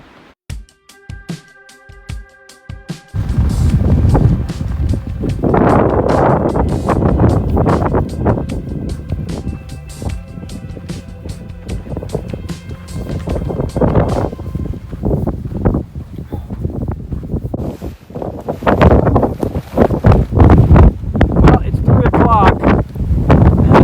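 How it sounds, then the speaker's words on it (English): Strong gusting desert wind, gusts of 30-40 mph carrying sand, buffets the microphone in a continuous low roar, with a person talking intermittently over it. "I guess this wind is just whipping right into it."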